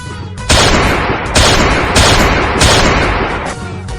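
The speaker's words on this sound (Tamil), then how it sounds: "உன் பைக்கு பின்னாடி துப்பாக்கி இருக்கோம் எடுத்து அந்த ஐஸ் மாஸ்டர் சுடு" Gunfire blasts out in a cartoonish comedy scene, several loud bursts of repeated shots in quick succession, dense and close with brief pauses between volleys and no talking.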